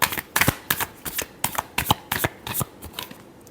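Tarot cards shuffled by hand in a run of quick, crisp riffling bursts at close range, each a few tenths of a second long with short gaps between, with no voices present.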